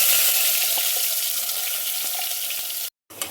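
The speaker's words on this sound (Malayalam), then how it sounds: "അപ്പോൾ നമ്മൾ ഈ മസാലകളെല്ലാം കൂടെ ഇതിനകത്തിലോട്ട് ഇടാൻ പോവുകയാണ്." Masala paste dropped into hot oil in a pot for a Maharashtra-style chicken curry gives a loud, steady, close frying hiss that stops abruptly near the end and then returns briefly.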